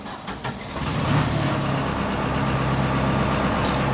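A Cummins 4BTA3.9 diesel engine on a 55 kVA generator cranks and catches, then settles into a steady, loud idling rumble close by.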